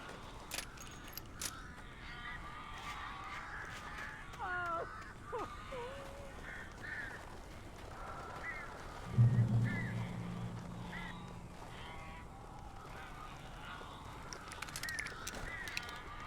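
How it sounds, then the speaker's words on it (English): Crows cawing in the video game Alan Wake Remastered, several harsh caws scattered over a quiet, rustling backdrop, with a louder low honking burst midway. "These birds are weird."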